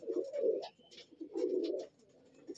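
A yellow-eyed male pigeon coos close by in two long, throaty, rolling phrases, with a softer coo at the end and faint chirps in the background.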